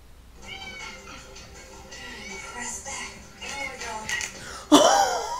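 A cat meows repeatedly in a home workout fail scene, its drawn-out, rising and falling cries coming close and fairly loud, ending in a sharp burst near the end, with a voice briefly present.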